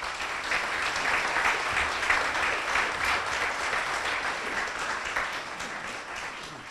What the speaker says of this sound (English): Always arrive at the mic before the applause stops.